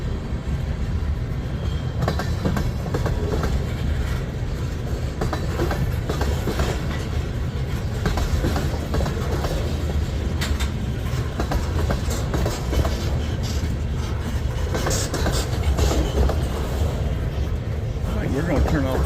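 A long CSX freight train rolls past in Resaca, Georgia, with continuous rumbling, rhythmic clickety-clack of wheels over rail joints and occasional metallic squeals, loud and close throughout; people talk over it.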